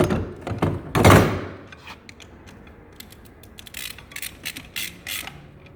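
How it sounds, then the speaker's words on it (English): Ratchet and metal clicks from nipping in the bolts of a DQ500 AWD to K-series adapter kit: a loud clunk early, then a rapid, uneven series of close clicks and creaks with no talking. "Make sure they're all seated nicely, and then back them off."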